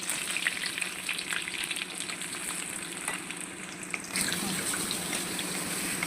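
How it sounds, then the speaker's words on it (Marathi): Garlic fries in a pan for a home-style capsicum potato sabji, giving a steady, close sizzle with a few light stirring scrapes. "आता आपण लसूण टाकू."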